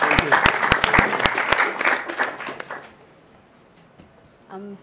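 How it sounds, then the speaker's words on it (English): An audience claps in a burst of applause at a youth-in-agriculture panel at Nampo 2018, dense and loud at first, then fading out within a few seconds before a voice briefly begins. "Yes, round of applause."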